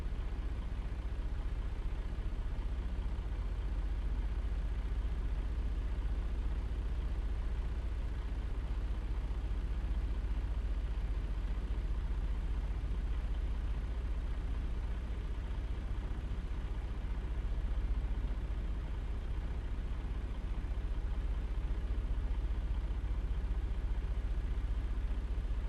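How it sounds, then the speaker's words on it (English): Truck engine idling in second gear in American Truck Simulator, a steady low rumbling drone holding constant and unbroken throughout, with no talk. "Still in second gear, just idling."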